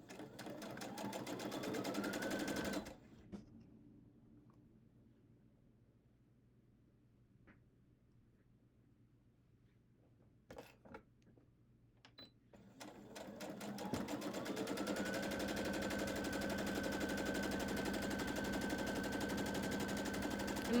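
A sewing machine stitching a quilt block with a quarter-inch seam, its rapid rattling hum shaking the table, running for a few seconds, pausing in near quiet with small clicks, then running again.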